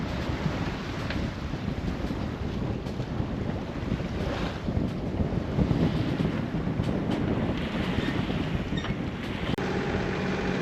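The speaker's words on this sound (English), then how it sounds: "feeling the breeze" Breeze gusting over open water on a boat heading in, a constant loud rush of wind noise across the microphone with waves and hull sounds beneath, no voices.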